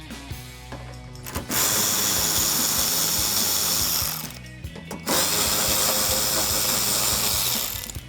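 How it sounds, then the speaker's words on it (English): Two loud, close bursts from a power driver with an 8mm socket remove wheel well liner screws on a 2019 or later RAM 1500 pickup, each burst whirring steadily for about three seconds with ratcheting clicks between. "I'm going to use my 8mm socket to remove some of the screws here on the inner wheel well"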